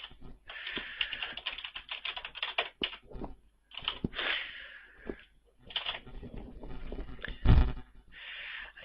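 Computer keyboard keys clack in quick, uneven bursts with short pauses between runs while an email address and username are entered, close and fairly soft, with no one speaking.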